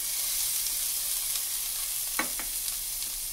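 Chopped onion sizzling in a splash of oil for a vegetable sofrito, a steady close frying hiss with a couple of brief louder crackles as the pan is stirred.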